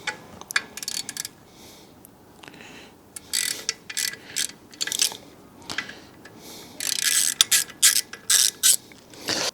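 A 4 mm Allen key ratchets a kickstand bolt on a BMW 1250 GS Adventure motorcycle, producing bursts of close, crisp clicking that come in short runs separated by pauses.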